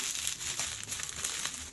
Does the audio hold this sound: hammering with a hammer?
no